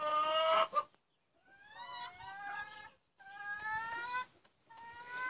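A hen just moved to a new home clucks and squawks loudly up close in three drawn-out, strongly pitched bursts separated by brief silent gaps.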